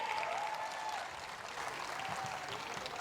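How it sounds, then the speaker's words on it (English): A crowd at a school annual day claps for performing Class I and II pupils, steady applause heard from a distance at modest volume with a faint tone running underneath. "Can we have a huge round of applause for them?"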